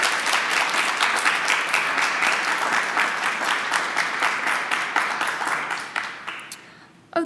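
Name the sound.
audience applause after a presentation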